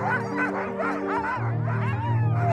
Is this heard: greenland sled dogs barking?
yes